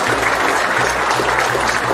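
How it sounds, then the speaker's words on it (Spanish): A crowd at a Mexican political event sends a round of applause to the president, heard as a short, loud, continuous patter of clapping from a gathering with no talking. "De donde se encuentre nuestro presidente, le enviamos un fuerte aplauso."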